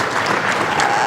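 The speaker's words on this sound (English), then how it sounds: "I think you should give a round of applause for all insurance companies." Brief burst of audience applause at an insurance industry panel discussion, dense even clapping throughout the short moment.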